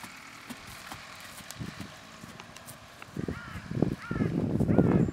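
Horse hooves clip-clopping, faint at first and growing louder and busier toward the end, with other rustling and bird-like sounds around them.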